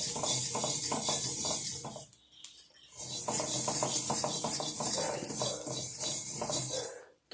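Mustard seeds frying in oil in a pan crackle and sizzle steadily, with rhythmic scraping and clattering as they are stirred, close and busy, broken by a brief pause midway.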